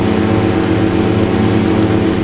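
Ventrac articulating tractor mowing university athletic field turf, its engine droning at a steady, loud, close hum with a constant tonal whine and no pauses.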